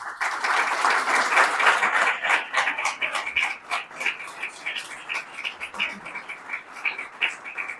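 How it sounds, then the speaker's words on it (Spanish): A seminary audience in Jalapa applauds to welcome a woman doctor arriving to give a conference talk; dense, steady clapping fills the room and thins slightly toward the end. "Le brindamos un enorme aplauso para recibirla"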